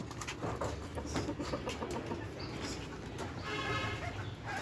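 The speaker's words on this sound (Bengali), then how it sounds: "আমার এই সোনালি মুরগিগুলো খুবই সুন্দর হয়েছে" Sonali chickens on a small farm, six hens and a rooster, cluck intermittently at low volume amid soft background noise, short scattered calls without talk.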